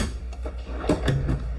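Fully extending drawers in an Alliance Delta 281BH RV travel trailer being slid, a few close clunks and rolling scrapes in short bursts, no voices.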